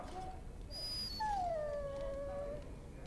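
Dog whimpering in the fantasy role-playing game Dragon Age: Origins, with a single thin, high whine that falls and trails off over a steady low background hum.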